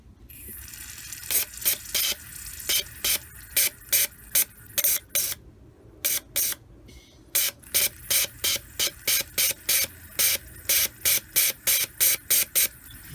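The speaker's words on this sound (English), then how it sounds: "I'm going to hold down the button on the carb cleaner and see if we get spray coming out" Short bursts of carburetor cleaner aerosol spray hiss out in a rapid, uneven series of pulses, each a sharp, close jet of pressurized mist with brief silent gaps.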